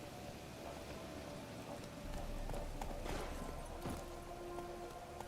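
Roach the horse gallops in The Witcher 3, a faint, quick run of hoofbeats over soft ground, low in level and mixed with light ambient patter.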